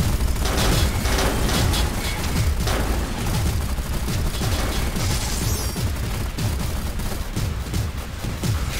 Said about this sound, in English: Eat my cannon fire!